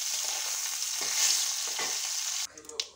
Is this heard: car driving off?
no